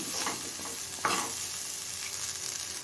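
Cauliflower frying in a pan as an oats pulao is cooked, a steady broadband sizzle throughout with occasional stirring scrapes and one sharper utensil knock near the middle.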